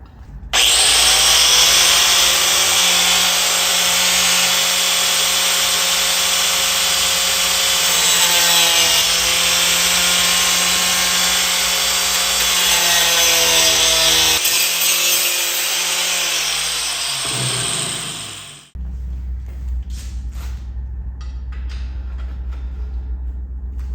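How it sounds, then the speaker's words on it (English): A power saw cuts through a bicycle steer tube in one long, loud, continuous grinding whine that lasts close to twenty seconds, then drops away abruptly into a low hum. "I think I'm going to just hack a little bit off here so it'll sit down in there a little farther"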